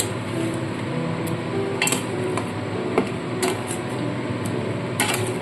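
Metal spoon scrapes and clinks against a pan while potato and pointed gourd curry is stirred, steady low cooking noise underneath with scattered sharp taps close by.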